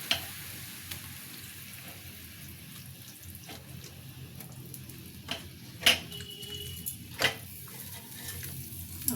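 Pointed gourds (potol) sizzling in a pan of simmering water and oil for doi potol, a steady low frying hiss with a few sharper clinks and stirs close by, no talking.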